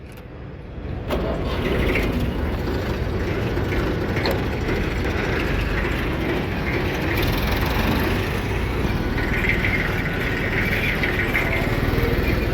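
Massey 35 tractor engine starting: a sharp crank at the start, then a loud, steady diesel rumble that keeps running close by, with no talk.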